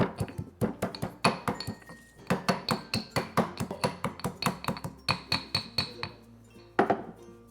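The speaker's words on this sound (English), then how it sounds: "I'll first start by adding a little bit of salt. Okay, that's just going to help grind all of those wonderful aromatics." Ginger, garlic and chili are pounded with salt into an aromatic paste for Asian grilled chicken. The result is a steady series of close, sharp hard knocks with a slight ringing clink, repeated rhythmically with a few short pauses.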